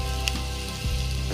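Chopped onion sizzles gently in a little oil in a pan with crushed garlic and ginger, a steady close frying hiss, briefly stirred.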